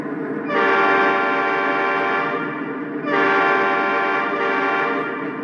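A loud, steady Lionel model diesel locomotive horn blares in two long blasts, the first about two seconds, a short gap, then a second blast of similar length.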